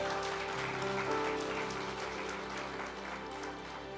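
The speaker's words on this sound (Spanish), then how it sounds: "Dale el aplauso al Señor." Members of a church congregation applaud for the Lord in a continuous soft patter of hands that runs throughout, layered over a sustained musical drone, with a little faint speech mixed in.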